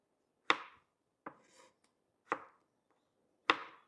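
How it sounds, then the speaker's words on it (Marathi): A knife chops tomatoes on a board for a kidney masala gravy: four sharp, separate chops spaced about a second apart, close and crisp in a quiet kitchen. "आपण आता ग्रेव्हीसाठी टमाटर कट करून घेऊ"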